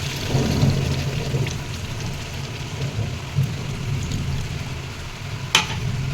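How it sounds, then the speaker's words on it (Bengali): Water poured into a pan of fried, spiced chicken biryani meat, a steady hissing, sizzling wash that runs throughout with a few soft knocks and one sharp clink near the end, no talking. "এবার আমি জল দিয়ে দেবো"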